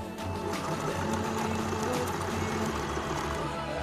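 A sewing machine stitches cotton-like fabric right sides together for wrap pants, giving a steady, close, continuous mechanical whir with a fast pulsing rhythm that runs the whole time.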